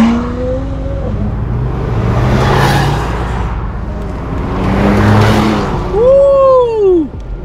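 McLaren 720S supercar roaring past in a drag race setting, a loud engine surge swelling and fading twice before a sharp rising rev at the end, with brief speech underneath.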